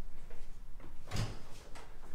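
A wooden coat closet door in a house creaks and thuds as it swings open, one short burst of movement in an otherwise quiet room.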